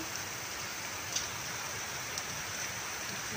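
Rain falls steadily at a beach resort, a soft even hiss of drops on surfaces, fairly faint and unbroken, with one or two slightly louder drips standing out.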